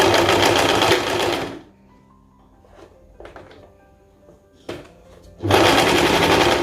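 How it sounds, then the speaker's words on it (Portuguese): A sewing machine stitches fabric for a chemise dress, with loud fast bursts of needle chatter at the start and end and quiet handling and fabric rustles in the pause between. "Aqui no cantinho que eu falei, eu vou vir aqui para começar a minha costura."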